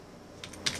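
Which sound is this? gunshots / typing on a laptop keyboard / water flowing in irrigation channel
typing on a laptop keyboard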